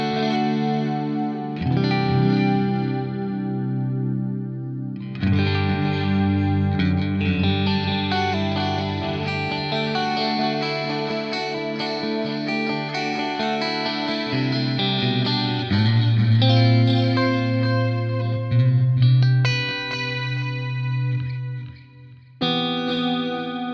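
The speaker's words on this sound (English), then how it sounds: "if I combine that with some diffusion, I'm going to get a beautiful, lush sound." Electric guitar played through a Fractal Audio AX8 delay with diffusion, giving a lush, wide, shimmering tone with long repeating tails over sustained chords and picked notes, continuous and loud with no talking.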